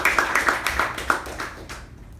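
A small group at a club meeting claps for speakers and evaluators, a short burst of distinct, fairly close handclaps that thins out and fades to quiet.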